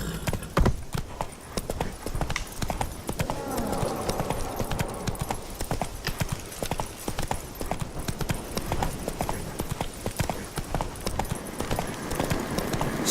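Steady clip-clopping hooves of the horse Roach in The Witcher 3 in Velen, a continuous rhythmic trot that is close and loud over a bed of game ambience.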